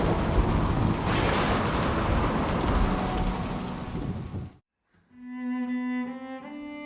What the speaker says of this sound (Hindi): पूरा एक दिन जोरदार बारिश होती है।